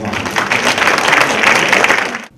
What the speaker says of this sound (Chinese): 他们的团队跟热烈掌声。